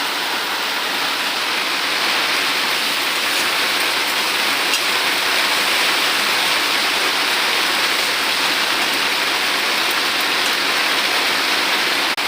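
Heavy rain falls outside during mutton cooking at home, making a dense, constant roar of drops on surfaces that stays loud and even the whole time, with no voices.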